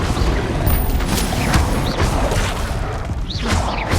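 Fire spell cast in the Hogwarts Legacy video game, heard as a steady roaring rush with sweeping whooshes and muffled booms, loud and continuous with no talk.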